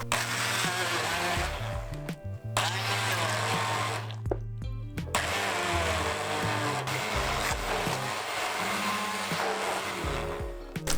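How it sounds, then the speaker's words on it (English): Hummus being blended in a food processor or with an immersion blender produces loud, churning motor whirs in bursts, with brief pauses between runs and no talk. "And then we are going to start blending it"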